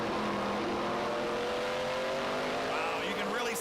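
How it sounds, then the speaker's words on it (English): A stock race car engine roars at the 2014 Wilson Equipment 300 as the driver goes on and off the gas. A loud, steady engine drone with shifting pitch runs under race commentary. "You can hear how much time that Steckley spends off and on the gas pedal"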